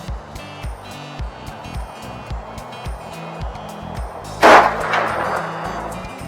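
A Marlin M1895XLR .45-70 lever-action rifle fires a single loud, sharp shot at an outdoor range, its boom trailing off into a decaying rumble amid faint repeated background knocks.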